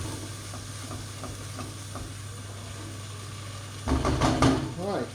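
Onions fry with sugar and salt for a chicken tikka bhuna, a quiet sizzle breaking into louder stirring and scraping near the end, with a voice talking over it.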